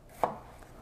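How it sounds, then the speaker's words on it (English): Single knife chop through a vegetable on a cutting board while preparing fresh homemade salsa, one short crisp thunk near the start and then quiet room tone. "I assume I will just chop them into, let's call it quarters."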